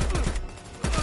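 Rapid SCAR rifle fire in the video game Predator: Hunting Grounds, a close, punchy burst of three shots, a brief pause, then more shots.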